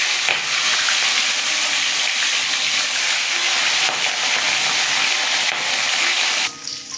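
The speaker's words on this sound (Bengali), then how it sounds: "এখন তেল গরম হয়ে গেছে, মাছ ছেড়ে দেব।" Small carp frying in hot mustard oil, a loud continuous sizzle and hiss that holds steady for several seconds before easing slightly at the end.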